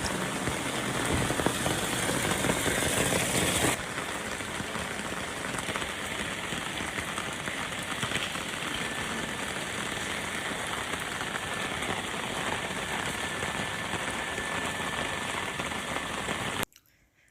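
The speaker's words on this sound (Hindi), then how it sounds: "बाहर पे बारिश कंटिन्यू हो ही रही थी बहुत बढ़िया वाली" Heavy rain pours steadily and loudly, a dense continuous hiss of drops that hardly changes, then cuts off abruptly at the end.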